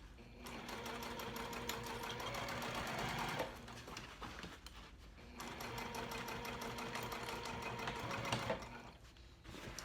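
A sewing machine stitches backpack fabric pieces in two steady whirring runs separated by a short pause, faint and close with a fast even needle rhythm.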